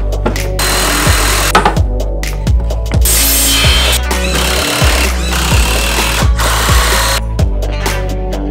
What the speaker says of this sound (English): I'm gonna drill the holes 1 inch apart.